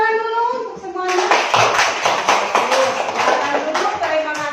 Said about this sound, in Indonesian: Beri tepuk tangan dulu untuk semuanya.